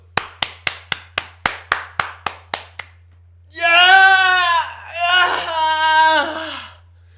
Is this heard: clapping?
yes